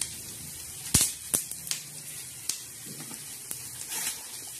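Coriander seeds roasting in hot oil in a pan, giving a soft continuous sizzle with a few sharp crackles and pops scattered through it, close and fairly quiet, with no talking.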